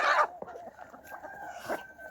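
Hens clucking in a farmyard, a few scattered close clucks and calls with quiet pauses between them.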